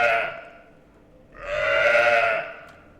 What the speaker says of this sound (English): That's a sheep. That's a sheep sound.